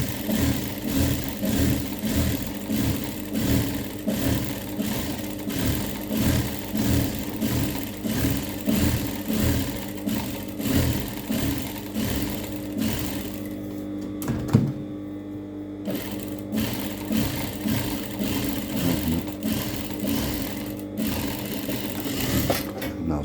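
A sewing machine stitching the trim of a Moroccan caftan, running steadily with a fast, even mechanical rhythm that continues almost unbroken, with a brief pause and clunk partway through.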